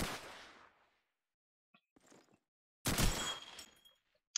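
Gewehr rifle shots in Call of Duty 2 during a competitive Netherlands versus Greece match: a sharp crack fades out, a faint pop follows, then a loud close shot rings with a bright tail.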